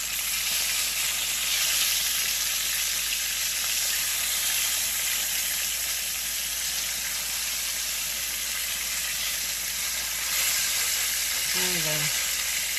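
Thick pork chops fry in a pan with a steady, loud sizzle and hiss throughout, and a brief scrape near the end as one is moved.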